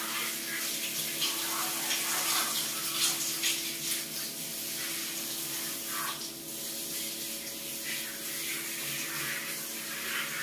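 Water runs steadily and close by as a child is bathed and washed in a tub, with a continuous splashing rush that barely varies.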